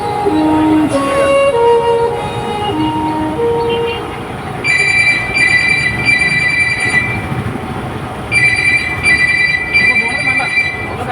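A phone rings in two long electronic bursts, loud and close, over a busy background with brief music-like tones.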